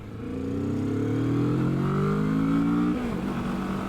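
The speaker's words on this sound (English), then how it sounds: "I don't know if you can hear it, but this thing is based on the Kawasaki Ninja 650 engine" A Kawasaki Vulcan S motorcycle's Ninja 650-based engine climbs in pitch under acceleration, its tone rising steadily before dropping sharply as it shifts, loud and close with no talking.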